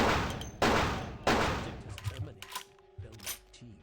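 Shotgun gunfire in the video game Vampire: The Masquerade - Bloodlines, with three loud, sharp blasts in quick succession, each trailing off. Quieter game sounds and a voice follow.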